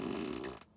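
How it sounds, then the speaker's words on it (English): A Tesla's novelty whoopee-cushion fart sound set to play on the turn signal, one short buzzy blast lasting about half a second, close and clear, then cut off. "So there's 2 options here, the fart on demand, fart on turn signal."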